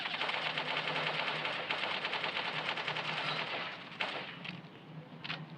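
Continuous rapid gunfire from a standard gun in the game Bullet Angel: Xshot Mission, loud and unbroken for several seconds, thinning to a few scattered shots at the end.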